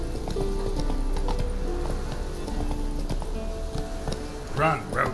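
Roach, a horse in The Witcher III, gallops with steady clip-clop hoofbeats under continuous game music and sound effects, a voice urging the horse on, and a brief whinny near the end.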